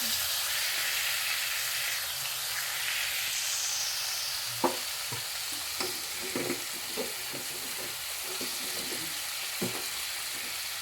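Chicken pieces frying in their own rendered fat in a pot, a constant broad sizzling hiss with occasional stirring knocks and pops, no voices.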